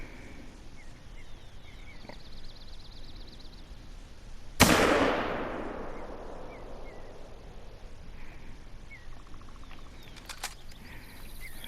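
A single loud gunshot fired at a turkey during a hunt in the Rockies, a sharp outdoor crack whose echo rolls off over a couple of seconds, set among quiet ambience and faint birdsong.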